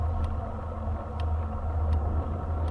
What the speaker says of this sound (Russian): Впереди снова машина.